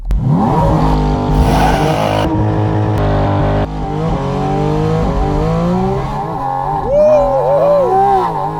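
A Porsche Boxster Spyder RS launches hard from a standstill, its engine roaring up through long gear pulls with brief dips at each shift, loud and close, the pitch climbing steadily with a short tire squeal near the start.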